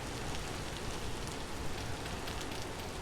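Rain pours continuously in Vintage Story, a stormy in-game downpour heard as a close, unbroken wash of pattering drops without any talking.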